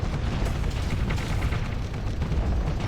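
Torpedo explosions in the space combat game Starsector, a dense, continuous rumble of overlapping booms and blasts with strong low-end weight, loud and sustained without a break.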